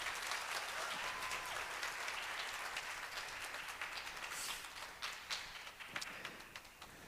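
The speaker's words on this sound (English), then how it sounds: "let's give our singers and dancers a round of applause" Audience applause for singers and dancers at a Native American storytelling and dance event: dense clapping at first, thinning out toward the end into scattered, separate claps.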